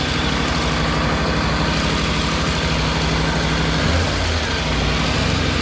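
A Triumph Tiger 900 Rally Pro motorcycle idles steadily at close range, its low, even engine rumble continuing without pause or revving.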